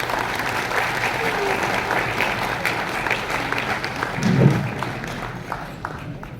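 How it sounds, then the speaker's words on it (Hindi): A festival audience claps loudly and continuously for Delhi Chief Minister Rekha Gupta, a dense steady round of applause at a film festival event. "एक बार फिर से जोरदार तालियां हो जाएं आदरणीय मुख्यमंत्री श्रीमती रेखा गुप्ता जी के लिए"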